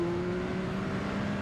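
Yamaha R9 motorcycle triple engine revving out under steady acceleration, a loud sustained engine drone with a rising tonal whine and no pauses.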